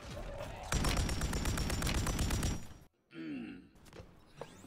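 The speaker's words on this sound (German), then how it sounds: "Ach, Digga, Schüsse vom Bahnhof." A dense burst of rapid gunfire in Call of Duty: Warzone rattles for about two seconds, followed by a brief silence and some faint voices and shuffling sounds.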